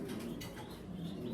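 Grizzle-coloured exhibition pigeons coo softly nearby in a low, continuous murmur with faint rustling, and no voices are heard.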